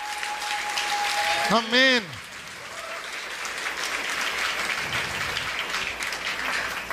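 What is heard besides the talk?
applause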